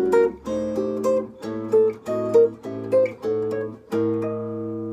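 Jazz guitar strums a sequence of diminished seventh chord voicings, about eight distinct chords struck one after another in a steady rhythm, each ringing briefly, played alone without talk.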